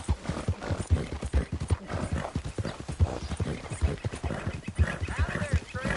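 Horse hooves clip-clopping in a video game, a steady quick rhythm of close, fairly quiet hoofbeats running throughout.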